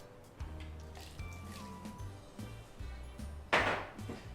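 Soaked oats spooned into a batter mixture of green moong and rice, soft wet squishes and drips close up, ending in a louder sloppy plop.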